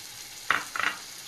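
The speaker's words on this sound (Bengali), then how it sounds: "দিয়ে আবারও ভালো করে কষাবো।" Spice paste of dried chilli, ginger, fennel and cardamom, with cumin, hitting a hot pan, giving two short bursts of sizzle and stirring over a quiet background.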